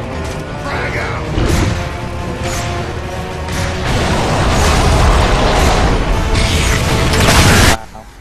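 A frag grenade in Gears of War goes off with a loud, sustained blast that rumbles for several seconds before cutting off sharply, with players talking underneath.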